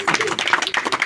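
Wedding guests at a Delhi ceremony clap together in a brief, dense burst of applause, close and steady throughout.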